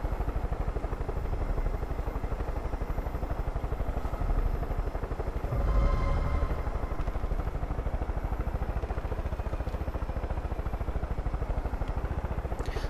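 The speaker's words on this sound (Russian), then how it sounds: "Мне кажется, чем выше ты взлетаешь, тем медленнее летит вертолет." A helicopter flies steadily in Far Cry 5, its rotor beating a fast, even chop over a constant engine drone, close and sustained throughout with a brief louder swell midway.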